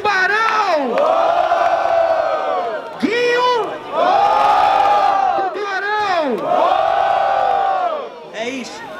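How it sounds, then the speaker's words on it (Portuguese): A crowd at a student rap battle in Guarulhos cheers, whoops and shouts loudly for a contestant, in repeated surging waves of wide, high-pitched yelling with short dips between. "Barulhos pra quem gostou das rimas de Tubarão!"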